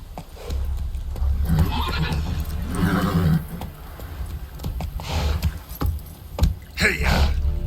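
A horse in The Witcher 3 neighs and whinnies several times amid clip-clopping hooves, close and fairly loud, with game ambience around it.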